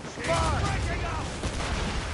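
Cannon volleys fired from a ship in Assassin's Creed Rogue: heavy, rumbling broadband blasts rolling under loud shouted voices, with a thick, continuous battle din filling the whole moment.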